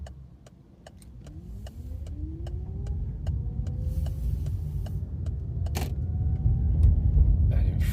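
A car driving along Wear Bay Road in Folkestone, heard from inside the cabin as the engine note climbs steadily while accelerating, with road rumble and faint regular ticking in the background.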